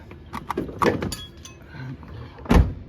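A door shuts with a single solid thunk near the end, in a garage setting during a Toyota Tacoma brake booster replacement, following scattered handling clatter and faint background noise.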